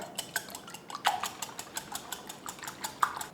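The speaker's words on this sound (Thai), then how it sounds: "ตีไข่ให้แตกเลยค่ะ" Six small eggs are beaten in a bowl with quick, light clinks of utensil against the dish. The taps come in an irregular but steady rhythm, close and fairly soft, with no talking.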